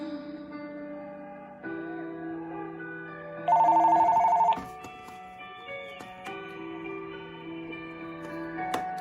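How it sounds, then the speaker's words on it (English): A telephone bell rings once in a short burst partway through, cutting in over steady music with bass and guitar tones playing throughout, during a home session recorded in isolation. "Sorry about that phone."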